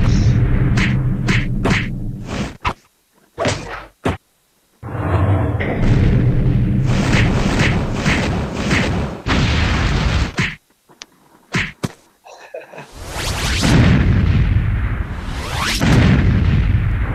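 Loud cartoon-style blasts and heavy whacks from Spirit Bomb attacks in a battle scene, a series of booming bursts separated by brief silent gaps, ending in a sustained roaring explosion.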